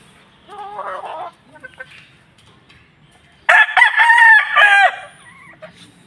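A white kelso chicken crows nearby, with one softer call followed by a loud, full cock-a-doodle-doo, and light clucking in between.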